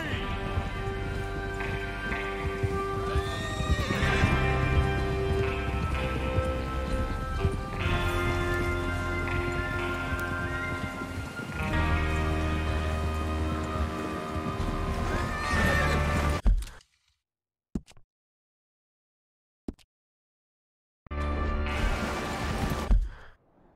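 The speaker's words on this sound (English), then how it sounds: "Get your horses ready." Horses in the video game Red Dead Redemption 2 gallop with rapid, loud hoofbeats and repeated whinnies over a busy background. After about sixteen seconds it drops to near silence, with one isolated crack, before the galloping returns briefly.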